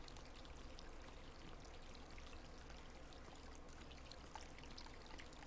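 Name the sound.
running water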